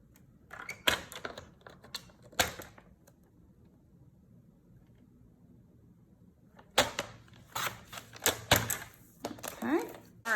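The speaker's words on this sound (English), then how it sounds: "now we're done with the trimmer" Paper trimmer slicing cardstock, with sharp, close clicks and swishes in two clusters separated by a quiet pause.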